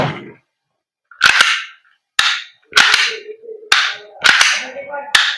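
An Umarex Glock 19 Gen 5 airsoft gas blowback pistol fires about six sharp, loud cracks at uneven intervals, each followed by a short hissing tail of gas and slide action.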